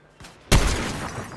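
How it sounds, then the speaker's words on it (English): Gunfire in the video game Fortnite, a single sudden burst with a booming tail, heard nearby after a moment of quiet. "Someone's shooting me."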